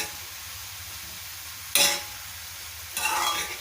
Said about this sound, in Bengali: হিট শেষ, আমরা এটার মধ্যে টমেটো দিয়ে দিলাম।